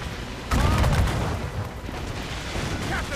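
Ship cannons fire in the naval combat of the video game Assassin's Creed Rogue, giving a loud booming burst of broadside shots followed by sustained rumbling battle noise, with some speech mixed in.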